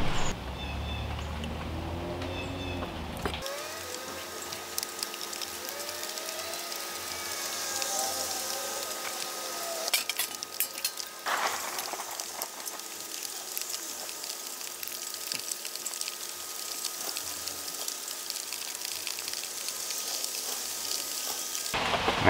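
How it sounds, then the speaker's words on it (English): Steady rain pattering on a surface, a dense continuous hiss that holds for a long stretch, close by, with a brief voice at the start. "the rain's starting to come down harder"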